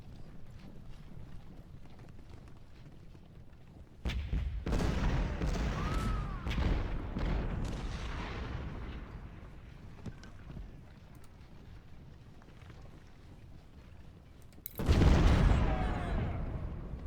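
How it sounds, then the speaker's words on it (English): Artillery fire in the Civil War strategy game Ultimate General Civil War, with loud cannon booms erupting around the four-second mark and again near the fifteen-second mark over a steady bed of distant battle ambience. "More artillery."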